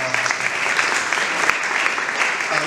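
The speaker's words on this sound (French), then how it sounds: "Applaudissons pour lui, il est là." A school assembly audience of Lasallian students in Kinshasa applauds Brother Michel, the culture officer, with dense, steady clapping that holds throughout at close range, with faint voices mixed in.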